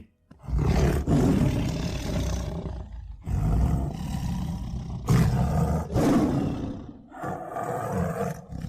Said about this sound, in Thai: เสียงคำรามของนางสมิงสะกดป่าให้เงียบไปอีกครั้ง